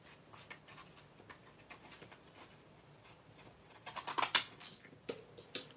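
Scissors cut through paper while hidden paper clips are made, quiet snips at first, then a louder cluster of close, crisp cuts toward the end.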